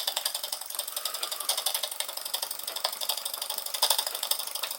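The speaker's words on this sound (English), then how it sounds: "Nice to see a working chimney on a model steam engine." A model steam engine runs on steam from a SteamCo STC 04 boiler and drives a Jensen #100 workshop setup, making a fast, even mechanical chuffing and clicking rhythm at low volume throughout.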